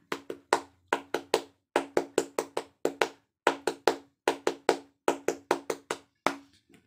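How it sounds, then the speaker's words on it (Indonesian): One person performs a Scout rhythmic clap pattern, crisp close hand claps grouped in quick patterned bursts separated by short pauses, clean with no talk. "kita lakukan tepuk pramuka"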